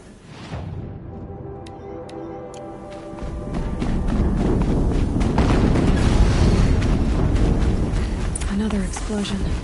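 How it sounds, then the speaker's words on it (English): An explosion in Horizon Zero Dawn, starting after a quieter stretch of tonal game sounds and chimes, then swelling into a loud, sustained low rumbling blast with crackling debris that fills the rest of the scene. "Explosion."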